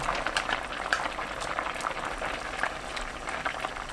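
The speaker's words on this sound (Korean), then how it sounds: "뚜껑 열고 중불로 낮춘 뒤 4분 더 끓입니다" A pot of tuna stew with kombu boils steadily, bubbling and popping at a constant close level over a broad hiss.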